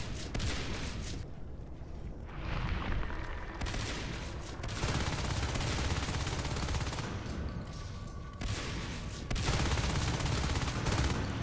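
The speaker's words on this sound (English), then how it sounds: "Some good shots down on Joshi." Marines firing weapons in a competitive Natural Selection 2 league match, heard as dense, continuous volleys of gunfire that run nearly the whole time, with brief lulls between heavy bursts.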